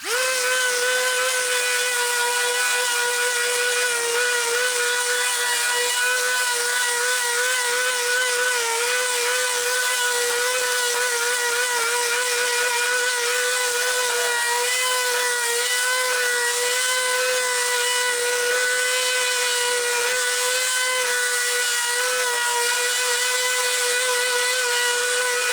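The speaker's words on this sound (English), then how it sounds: "we're going to use our palm sander here. We're going to sand the top real quick" A palm sander runs across a wooden bench top, giving off a steady, unbroken high whine with a rich buzzing edge that holds constant throughout, with nothing else heard.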